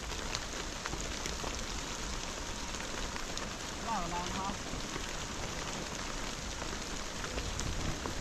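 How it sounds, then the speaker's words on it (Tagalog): Heavy rain with large drops falls steadily as a dense, continuous hiss and patter, fairly close and loud, with a faint voice briefly audible beneath it. "Kakagat siya dyan, maulan. Maulan. Ang laki ng patak, oh."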